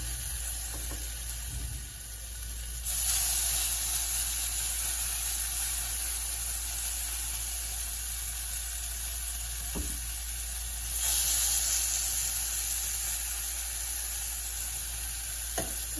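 Spaghetti squash fritters fry in sunflower oil in a skillet, giving a steady, close, bright sizzle that swells louder twice and keeps going with no talk.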